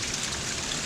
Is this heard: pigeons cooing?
no